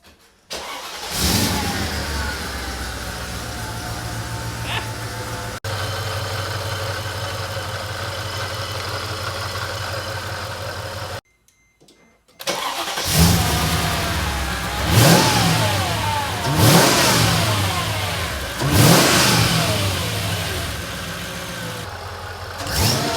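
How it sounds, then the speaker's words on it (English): A Mercedes E55 fitted with a 77mm fixed pulley starts up and idles, then revs repeatedly in loud, rising bursts with supercharger whine, close by, after a brief silent gap and with no talking. "We're going to fire it up, and I'm going to go look at the belt."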